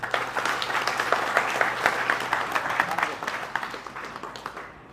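An audience claps steadily in a dense burst of applause that gradually thins and fades toward the end.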